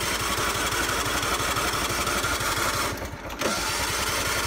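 A John Deere mower engine runs at a steady idle, a close, continuous mid-pitched chug with a brief dip near the end, with no talk over it.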